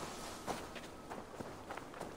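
Running footsteps along a path in the game Assassin's Creed Valhalla, a steady quick rhythm of soft, fairly faint footfalls over a low ambient background, with no talking.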